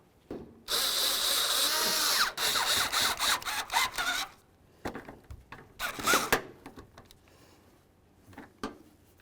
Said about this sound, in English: Let's grab all 3 of our mounting bolts. We'll start each of them in. Once they're all started, snug them up.